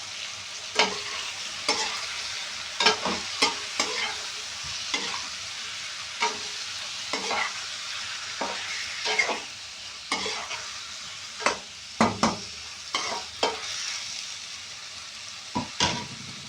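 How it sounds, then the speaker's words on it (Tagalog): Shrimp tossed into a pot of cooked tomato for shrimp corn soup, sizzling steadily while a spoon scrapes and stirs in sharp, irregular knocks, close and alone with no talk. "So ngayon, ilalagay ko na po yung ating shrimp."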